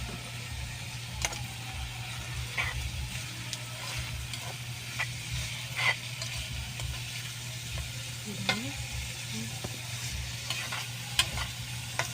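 Chinese ampalaya (bitter melon) and spring onions stir-frying in a pan, with a steady close sizzle and intermittent scraping stirs over a constant low hum, no talking.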